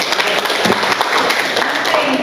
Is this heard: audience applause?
yes